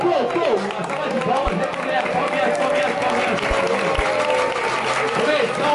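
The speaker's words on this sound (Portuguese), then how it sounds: "salva de palmas, palmas" Crowd applause and cheering at a Brazilian street rap battle, a loud, dense wash of claps and shouting voices with an announcer speaking over it and a few low thumps.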